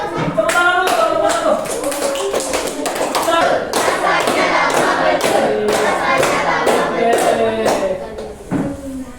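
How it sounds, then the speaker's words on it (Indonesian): Classroom of students clapping together for the first group about to present, a loud, steady burst of applause with sharp hand claps throughout, ending with a few scattered claps. "Tepuk tangan dulu, kelompok"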